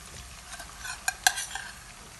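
Boiled onions going into hot oil in a frying pan, a brief burst of crackling sizzle with a couple of sharp utensil clinks, close and alone.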